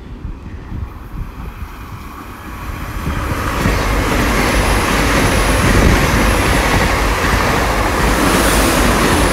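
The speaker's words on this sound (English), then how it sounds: "coming up the line now will be the Great Western Railway service to London Paddington from Penzance." A Great Western Railway 10-coach IET train passes at Dawlish Warren, building from a low rumble to a loud, sustained roar with heavy wind buffeting on the microphone as it goes by.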